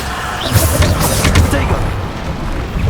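Bombarda explosion spell blasting in Hogwarts Legacy during a trial fight, a series of heavy low booms and rumbling crashes through the clip with bursts of bright crackle, while a voice speaks over the combat.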